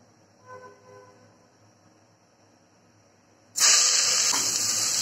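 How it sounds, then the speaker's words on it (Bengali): Chopped onions dropped into hot oil in a pressure cooker for biryani burst into a loud, steady sizzle after a few quiet seconds, the hiss continuing strongly to the end. "তেল গরম করে নিয়েছি, দিয়ে দিচ্ছি পেঁয়াজ কুচি।"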